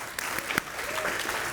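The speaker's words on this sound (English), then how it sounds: "look, people are going to clap" Brief, soft scattered clapping from a small audience at a food festival cooking demonstration, greeting a chef, with a voice briefly mixed in.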